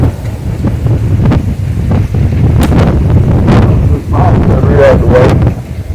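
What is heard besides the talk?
wind blowing outdoors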